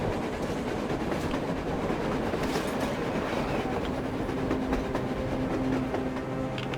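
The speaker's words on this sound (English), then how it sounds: "A train! A damn train on the surface!" A train rolls across the surface in the post-apocalyptic shooter Metro Exodus, a loud, steady rumble with rattling clatter and metallic tones that hold for the whole stretch, with no talk over it.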